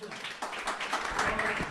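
Congregation in a church applauding, a dense, steady wash of clapping and voices that carries on without pause throughout.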